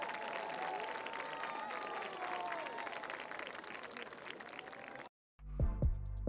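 Crowd applause and cheering in the stands at a high school football game, a broad continuous roar of clapping with faint voices mixed in; it cuts off abruptly near the end, followed by a brief tonal sound.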